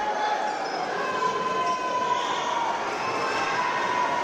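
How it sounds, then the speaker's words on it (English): A crowd at a college men's basketball game in a Scarborough gym keeps up a dense, continuous roar with whistles and shouts cutting through, holding loud throughout the few seconds. "Crowd getting a little louder here in Scarborough."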